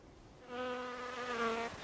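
Bee buzzing sound effect in an interactive exhibition, a close, steady droning hum that swells in after a quiet start and wavers slightly in pitch before fading.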